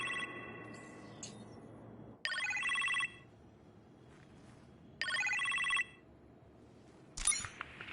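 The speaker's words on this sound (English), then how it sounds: "You appear to have a phone call in the kitchen" A phone rings in a kitchen in the video game Iron Man VR, three electronic trilling bursts spaced a couple of seconds apart over quiet background hum.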